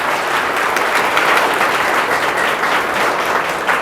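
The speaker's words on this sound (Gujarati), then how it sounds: "તો આપણે બધાને તાળીઓથી વધાવી લઈએ" A crowd claps to welcome guests at a New Year's Eve celebration gathering, dense sustained applause, loud and close, with no pauses for the whole stretch.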